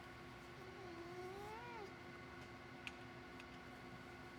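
An indoor cat, near warm server exhaust, gives a single drawn-out, wavering meow against a steady mechanical hum, with a faint tick afterwards.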